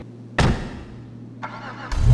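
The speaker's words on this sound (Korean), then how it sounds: "제가 엔진 소리 한번 들어볼게요." An Übermacht Sentinel XS in the video game GTA 5 cranks and fires up with a sudden loud burst, then settles into a steady idle hum with a brief surge in the middle and another rising rev at the end.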